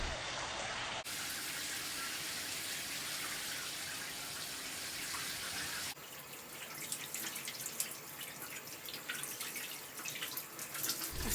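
Water runs steadily from a tap while hair is washed with shampoo, a continuous close hiss and splash that shifts in tone partway through, with no talking.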